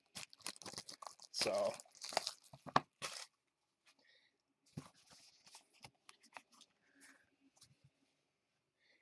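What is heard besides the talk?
scratching off scratch cards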